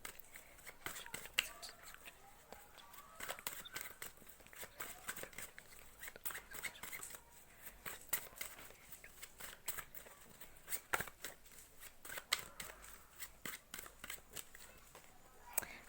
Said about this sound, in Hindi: जब तक मैं शफलिंग कर रही हूँ